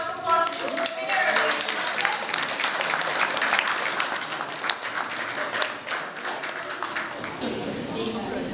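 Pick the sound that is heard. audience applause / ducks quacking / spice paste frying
audience applause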